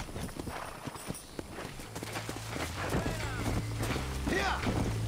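Horse hooves clip-clop at a steady walking rhythm in the video game Red Dead Redemption, moderately quiet beneath a low game ambience.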